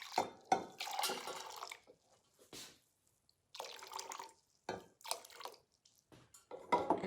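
Broth is poured into a measuring cup in a series of short, close liquid trickles and splashes separated by quiet pauses, with light clinks of the container.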